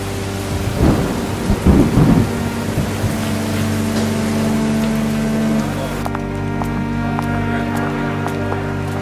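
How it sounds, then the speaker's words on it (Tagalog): Heavy rain pours steadily during a thunderstorm, with loud rumbling thunder cracks in the first few seconds, then a constant rushing downpour that continues alone to the end. "Ayan na ang ulan."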